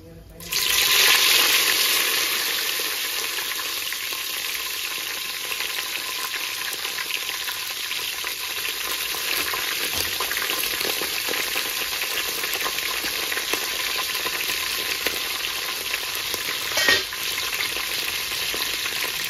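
Mint leaves fry in a pan while egg dum biryani is being made, a loud burst of sizzling at the start that settles into a steady crackle, with one brief clatter toward the end.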